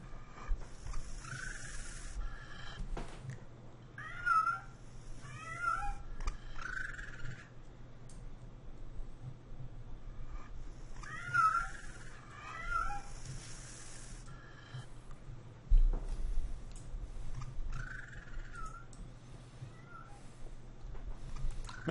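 A cat in the video game Tex Murphy: Overseer meows repeatedly, in pairs of drawn-out, warbling calls spaced several seconds apart over a steady low ambient hum, moderately faint.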